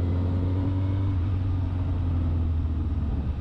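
A Honda Hornet 1000SP motorcycle engine drones with a steady low rumble as it pulls through an upshift into second gear using the quickshifter, heard close and continuous.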